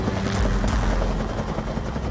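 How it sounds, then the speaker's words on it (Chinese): A helicopter fitted with an infrared camera flies along high-voltage power lines over mountainous terrain, its rotor and engine making a loud, steady, continuous roar close by. "装配有特制红外线摄像机的直升机沿着电网飞行"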